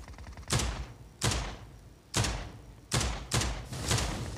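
Five heavy gunshots ring out from the mobile shooter Game for Peace, each a sharp close blast with a fading tail, spaced unevenly about a second apart, with no talking.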